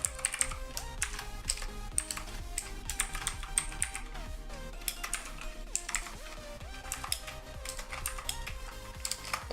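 Steady keyboard typing of Python code clatters throughout, dense quick keystrokes over a faint tonal background, close and continuous.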